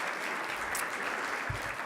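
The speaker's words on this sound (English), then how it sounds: "let's give a round of applause" Steady applause from the audience at the U.S. Conference of Mayors winter meeting, a dense even wash of clapping holding for the whole stretch with no voices over it.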